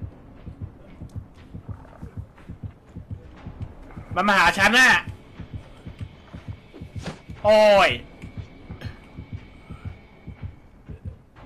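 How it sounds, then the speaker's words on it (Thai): A steady, thumping heartbeat from the horror video game Dead by Daylight pulses in a regular rhythm throughout, with two bursts of excited speech breaking in over it. "เสียงหัวใจระวังด้วย"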